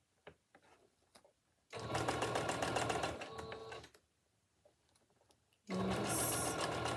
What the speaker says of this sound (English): And just go around and just sew that all the way around until you reach where you started.